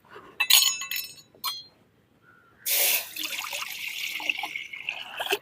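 A few glassy clinks, then a sudden rush of water pouring steadily into a pot for pearl millet porridge, continuing to the end with a bubbling, splashing texture.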